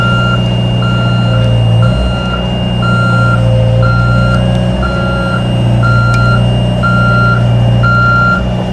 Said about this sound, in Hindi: देखो गाड़ी मार्चिंग हो रहा है